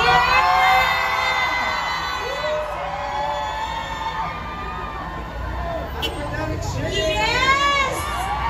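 A large concert crowd in Dubai screams and cheers all together on cue, a loud sustained wall of shrieks and whoops with high-pitched voices rising and falling throughout.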